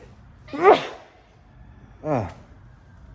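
Two sneezes, the first sharp and loud, the second a bit softer about a second and a half later, against a quiet background.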